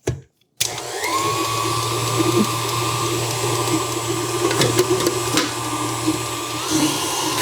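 A stand mixer fitted with a scraper paddle beats cupcake batter, its motor starting abruptly after a click and then whirring loud and steady with a constant drone.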